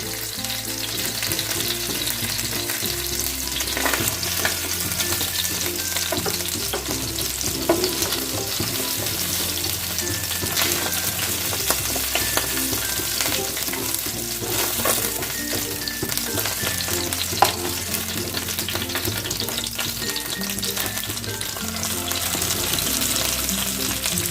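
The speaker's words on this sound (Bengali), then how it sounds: "দেখো মাছগুলো আমার ভালো করে লাল লাল করে ভাজা হয়ে গেছে" Steady, dense sizzling of boal fish pieces frying in hot oil, continuous and close, with occasional stirring clatter and some tonal background sound throughout.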